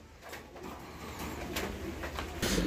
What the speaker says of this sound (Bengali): দর্শক বন্ধুরা আপনারা দেখতে পাচ্ছেন নটটা এই মুহূর্তে ডাকাডাকি করতেছে